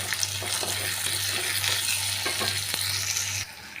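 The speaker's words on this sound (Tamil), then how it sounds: "நல்லா வெங்காயம் பூண்டு நல்லா வதக்கிக்கலாம்." Onion and garlic with a little salt sautéing in a pan, a bright continuous sizzle with occasional stirring clatter and a low steady hum underneath, close up and without talk.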